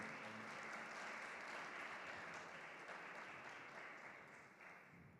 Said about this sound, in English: All right, big applause.